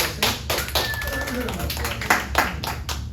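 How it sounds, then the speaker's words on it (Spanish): Scattered hand claps ring out for a professor during a class on crimes against public administration, a few sharp, fairly close claps mixed with speaking voices. "aplauso para el estimado profesor por comunicarse"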